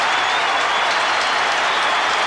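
A packed football crowd at a 1993 Adelaide Crows vs Collingwood match roars and claps loudly and continuously at the siren, a dense wall of cheering with no break.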